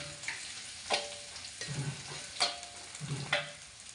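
Small anchovies fry in a pan, a soft steady sizzle with occasional stirring scrapes and light clinks at a close distance, no talking.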